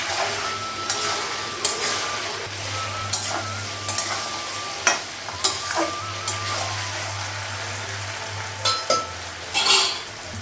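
Food sautés in a pan on a home stove, a soft steady sizzle broken by repeated metallic clinks and scrapes of a spoon stirring against the pan, with a low hum underneath.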